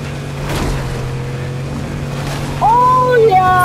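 A vehicle driven in the Fortnite video game gives a steady low engine drone with watery noise, and a few rising and falling tonal whines come in near the end.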